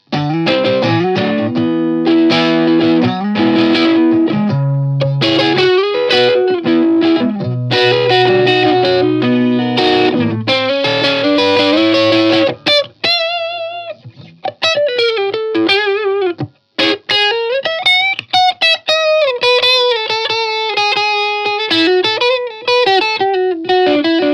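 Distorted Fender Super Sonic electric guitar plays chords and riffs with effects, followed by bending, expressive lead notes with pauses between phrases.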